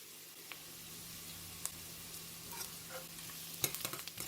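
Onions sautéing with salt in a pan for tomato rice: a soft, fairly quiet sizzle with scattered scrapes and clicks of stirring, busier toward the end.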